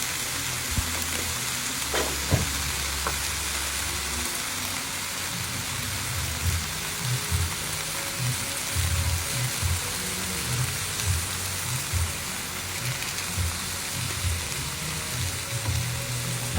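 Beef and vegetables stir-fry in a pan, a continuous dense sizzle with irregular stirring scrapes and clunks throughout.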